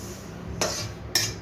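Two sharp metallic scrapes, a spoon against a pan, as roasted sesame seeds are scooped out, the clinks spaced about half a second apart over a quiet kitchen background.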